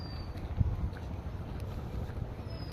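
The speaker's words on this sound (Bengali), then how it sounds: "হালকা মৃদু বাতাস" A light, gentle breeze drifts through a foggy Bengal village among trees, giving a steady, soft low rush of air with faint wind buffeting on the microphone throughout.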